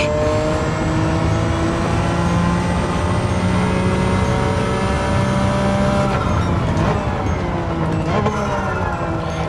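A 1990 Nissan R32 GT-R NISMO racing at Interlagos in Gran Turismo 7, its engine holding a loud, sustained high-revving drone with rising harmonics and a brief gear shift near the end, heard close and alone.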